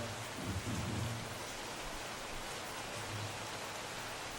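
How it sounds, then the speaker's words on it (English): Rain falling outdoors during a gathering in India, a steady diffuse hiss of drops with faint low rumbles, soft and continuous with no talking. "Is that rain?"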